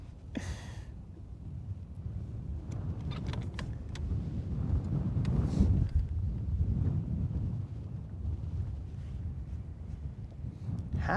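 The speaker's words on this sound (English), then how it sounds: "It was a north wind and now it is a crazy wind." Strong, gusty wind on Lake Guntersville buffets the microphone as a continuous low roar that swells toward the middle and then eases, with no talking.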